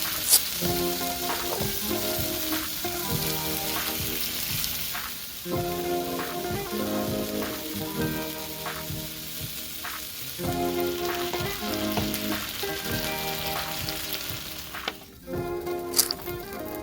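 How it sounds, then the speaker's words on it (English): Leeks coated in a little olive oil sizzle steadily on a hot pan as they char, a constant close frying hiss running under a rhythmic musical backing. "Work the leeks with a little bit of olive oil and place them on the hot pan to char."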